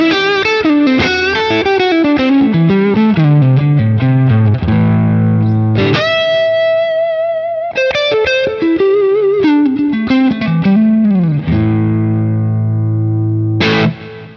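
Electric guitar through a Boss Katana amp with its treble booster engaged, playing loud, distorted and effects-heavy lines with sustained bright chords and melodic runs, continuous and close with no talking.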